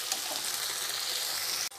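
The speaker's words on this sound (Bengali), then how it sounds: "দিয়ে মশলাটা এবার একটু কষিয়ে নিচ্ছি।" Spice paste sautéing in a pan gives a steady, soft hiss of frying, close and even, ending in a brief abrupt break near the end, with no voices.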